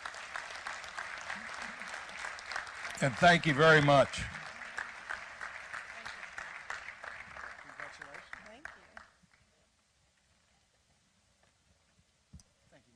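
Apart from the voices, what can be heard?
audience applause at annual meeting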